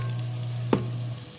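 Corn kernels drop into a pan of browning hotdog slices, giving one sudden sizzling burst over a steady frying hiss and a low, constant stove hum, with no talking.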